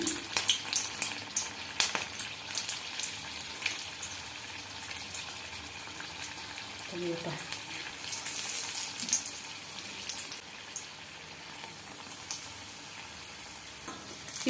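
Stuffed green chillies for street-style bun mirchi fry on one side in hot oil, giving a continuous close sizzle and crackle with occasional soft bubbling and a few light knocks.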